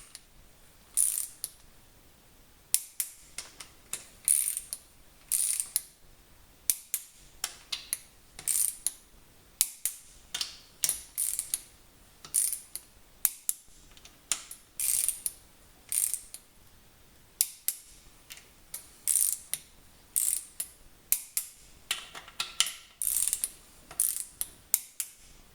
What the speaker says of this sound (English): Back onto our torque wrench, which is preset.